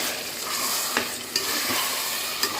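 Tomatoes sautéing in a pan for mutton biryani, a steady close sizzle with a few sharp scrapes of a spoon stirring through them.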